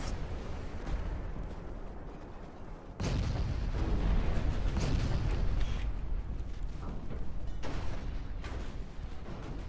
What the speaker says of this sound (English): That's a lot of armored cruisers shooting at you